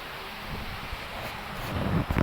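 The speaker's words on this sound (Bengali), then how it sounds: "প্রচুর পরিমাণের বাতাস হচ্ছে, বৃষ্টি হচ্ছে" Strong wind and heavy rain heard from indoors by a window during a storm that floods the streets, a steady broadband rushing roar that swells slightly toward the end, with no talking.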